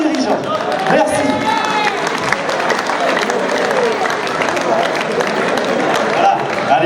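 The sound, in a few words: audience applauding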